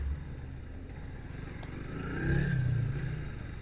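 A motorcycle engine hums close by, swelling louder around the middle as it passes on the left along an Indonesian street, with steady road rumble underneath.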